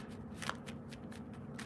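Tarot cards being handled and drawn from a deck: soft, quick papery rustles and flicks repeat in short bursts, close and fairly quiet, with no voices.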